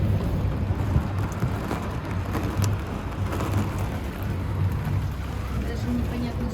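A thunderstorm with hail pounds a cable car cabin on the Kok Tobe line in Almaty, a dense rattle of hits with low rumbling underneath, close and continuous, with people speaking over it.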